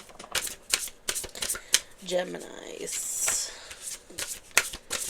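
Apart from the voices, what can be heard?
shuffling oracle cards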